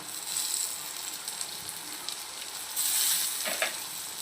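Tomato with turmeric sizzling and steaming in a pan for bitter gourd curry, a soft steady hiss with brief crackling bursts and a louder swell toward the end, no talk.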